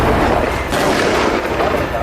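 Gunfire and explosions ring out as soldiers raid a damaged house in Khan Younis, southern Gaza, a loud, dense, continuous barrage of blasts and shots with no clear pauses.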